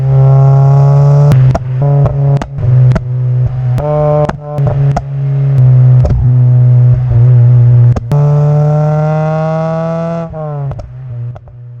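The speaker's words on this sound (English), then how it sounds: "built from scratch by Robert Lovely, is one of the greatest sounding exhausts I have ever heard on one of these cars." A car with a custom exhaust built from scratch revs repeatedly, a loud, deep droning burble rising and falling with sharp pops and crackles between blips, close to the tailpipe.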